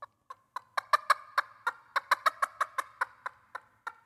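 Turkey call made with a hard inner material, giving a clear, sharp note: a series of about fifteen short, bright clucking yelps in an uneven rhythm, close and fairly loud, with no talking.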